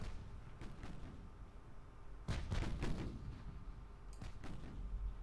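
Naval guns firing in the warship game Ultimate Admiral: Dreadnoughts, several deep booming shots in irregular succession over a constant low rumble of background noise.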